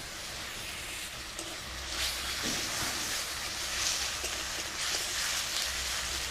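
Onion paste and ginger-garlic paste frying in white oil in a kadai for Mughlai paratha filling, giving a steady, close sizzle and hiss that runs throughout with no talking.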